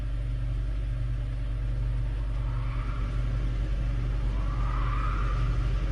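Hyundai Elantra engine running with a rattle and stalling trouble, a steady low rumble close by that holds evenly throughout with no voices.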